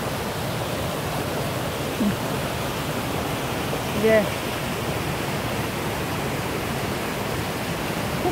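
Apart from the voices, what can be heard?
mountain stream swollen by heavy rain into a waterfall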